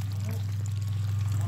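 Water gushing steadily from a very powerful pump, a constant close rush over a strong low motor hum, with a voice speaking faintly over it.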